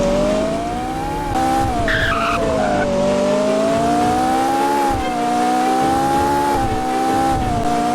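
A fast Ferrari race car in BeamNG screams along at high revs, its engine note rising and dipping with gear changes while tires squeal and skid under it. The sound is loud and close for the whole stretch, with no talking.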